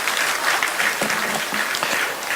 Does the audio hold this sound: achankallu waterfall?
no